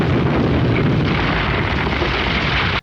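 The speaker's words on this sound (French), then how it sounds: "on va avoir notre explosion maintenant" Car bursting into flames and exploding in the 1987 action film Hollywood Cop, a dense, sustained roaring blast filling nearly three seconds at high volume before cutting off abruptly.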